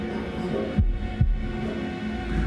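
Heartbeat from the horror video game Man of Medan: two deep, low thumps close together, throbbing beneath a steady hum, near and moderately loud.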